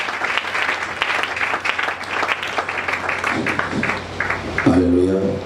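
A church congregation claps loudly for the Lord during a French-language service, with dense close applause going on throughout, a voice heard over the clapping, and cheering voices rising near the end.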